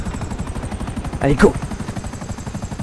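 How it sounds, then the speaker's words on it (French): A helicopter in Grand Theft Auto Online gives a rapid, loud rhythmic rotor chop throughout, with a player speaking briefly over it. "Y a un hélico qui est haut là."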